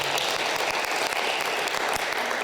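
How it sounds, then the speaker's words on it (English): Steady, close crowd applause for a student speaker at a literacy celebration held by an international school in northern Japan, a brief unbroken burst of many hands clapping. "And up next, let's give a round of applause for Jiwoo."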